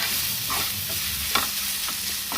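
Raw mango thecha frying in a pan, a busy sizzle broken by a few quick stirring scrapes, close with no voices.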